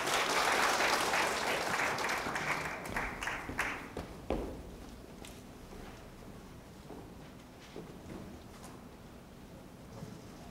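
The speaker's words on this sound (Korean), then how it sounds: "박수로 맞아주시기 감사하겠습니다" A ceremony audience applauds to welcome a speaker at a commemoration in Gwangju. The clapping is loud at first, then thins out to scattered, separate claps as it fades.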